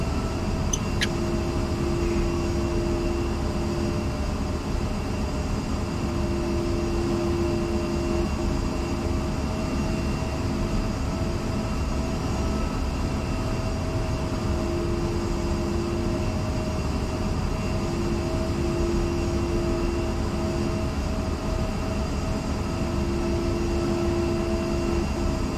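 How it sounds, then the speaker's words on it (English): A jet aircraft rolls for takeoff on runway 6 at night in the DCS World flight simulator on the Marianas map, its engine roaring as a steady, even whine and rumble for the whole stretch, with no talk. "And one is rolling. I'll be taking off runway 6,"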